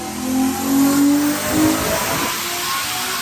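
Loud diesel drag racing truck engines revving in the open at a drag race paddock in Thailand, rising and falling in a few surges before settling into a steady rumble.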